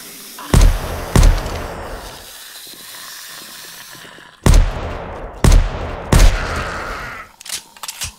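An SVD rifle fires in the video game 7 Days to Die: six loud, sharp single shots at uneven intervals, each with a brief hissing tail, followed by a few quieter clicks and thumps.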